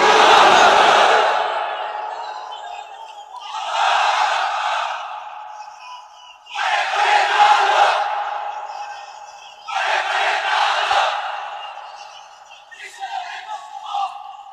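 A large crowd at an Islamic sermon chants takbir, Allahu Akbar, in four loud, sustained, roaring waves separated by short pauses, with a fainter fifth swell at the end.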